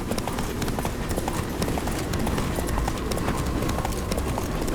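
Geralt's horse gallops in The Witcher 3 video game, a continuous dense drumming of hoofbeats with rattling tack that stays loud and close throughout.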